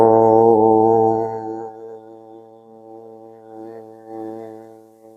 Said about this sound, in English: We'll seal with one Om today.